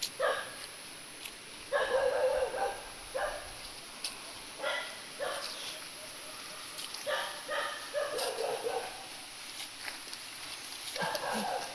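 Dog barking outdoors, several short barks in irregular bursts at a moderate distance, with a steady high background hum.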